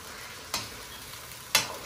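Mutton pieces frying in a pan for karela gosht, a low steady sizzle broken by two sharp stirring scrapes, close and alone.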